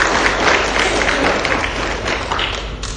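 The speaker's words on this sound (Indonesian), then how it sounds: "Berikan aplaus untuk NASA." Audience applause for NASA at a business seminar, a dense sustained clapping from a crowd, fairly loud and steady for the whole few seconds, with faint voices mixed in.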